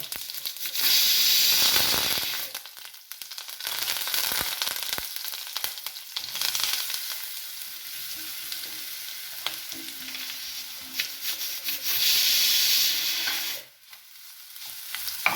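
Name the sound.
urad dal mixture being stir-fried in a pan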